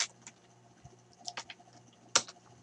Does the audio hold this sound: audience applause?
no